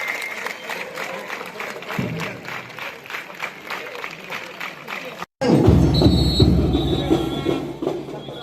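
Crowd applause at the inauguration of SGFI division-level school sports, with a minister present; steady clapping and crowd noise, briefly cut off, then resuming louder and fuller, with voices mixed in.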